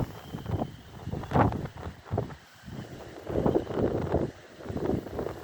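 Strong gusty wind blows at Pirita beach, buffeting the microphone in rising and falling roars of broadband noise, close and continuous with no talk.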